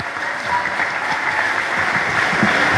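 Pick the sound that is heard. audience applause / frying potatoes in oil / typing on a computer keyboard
audience applause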